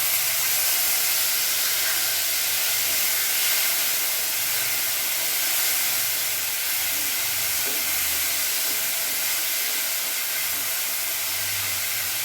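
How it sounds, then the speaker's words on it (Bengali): Chopped tomato tipped into a hot pan for a vegetarian pointed gourd and rice dish, giving a steady, loud broadband sizzle and hiss that holds evenly throughout with no voices. "এবার আমি টমেটো কুচিটা পুরোটা দিয়ে দেবো।"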